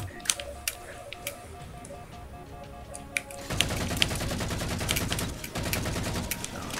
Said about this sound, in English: Operate machine gun, get rid of these guys.